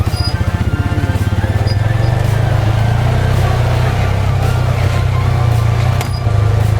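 A Honda Pioneer 500 UTV fitted with softer Walker Evans springs crawls over a rock obstacle on a wooded trail, its engine a loud, steady, close throb with faint knocks and rattles over the top.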